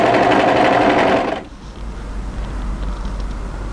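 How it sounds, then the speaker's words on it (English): An overlocker stitches together the raw edges of a winter sweater with a loud, fast, steady whir up close, then stops abruptly after about a second and a half, leaving a quiet low hum. "we're going to present this to our overlocker"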